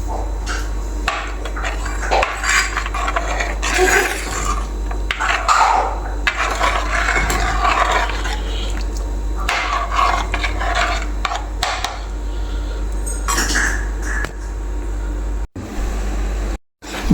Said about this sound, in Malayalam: ഇനി നമുക്കിതൊന്ന് നല്ലപോലെ ഇളക്കി കൊടുക്കാം.